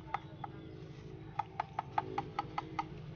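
About ten sharp, hollow knocks on a watermelon in an uneven rhythm, close and fairly faint, over a low background hum.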